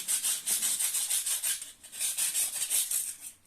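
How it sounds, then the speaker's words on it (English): Rapid rhythmic rasping strokes of sanding a ceramic tile ring, back and forth in quick bursts, close and fairly loud, with a brief pause midway. "Sanding time again."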